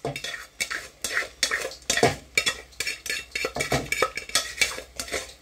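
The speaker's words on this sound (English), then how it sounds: "I'm tipping it all in there." Cold curried rice tipped into a pan over very low heat and stirred, with repeated close metallic scrapes and clinks of a utensil against the pan in an uneven rhythm, faint sizzle beneath, no talking.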